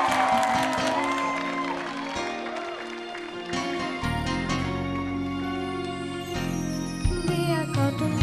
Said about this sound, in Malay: Jom kita berikan tepukan gemuruh untuk Balkis.